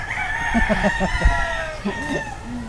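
An Arabian rooster crows in a backyard, one drawn-out call with a second shorter crow toward the end, close by, with clucking and faint voices underneath.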